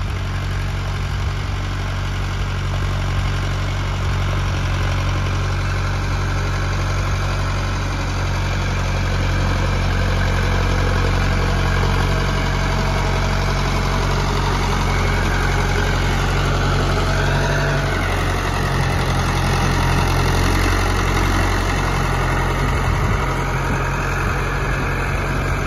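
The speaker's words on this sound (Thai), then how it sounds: "ผมชอบเสียงท่อนะครับกระหึ่มดีนะครับ" A heavy engine idles steadily with a deep, thick rumbling exhaust, loud and close for the whole stretch with no talk, on an earthmoving machine with twelve forward and twelve reverse gears.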